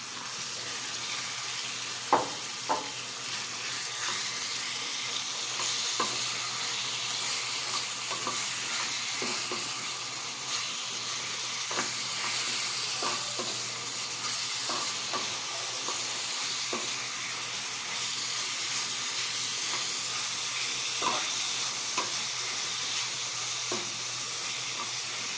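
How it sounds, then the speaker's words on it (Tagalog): Sliced chicken fries in a pan for ginisang ampalaya, a continuous close sizzle and hiss with occasional pops and clinks of stirring, no one speaking. "Lagay ko ng hiniwa na chicken."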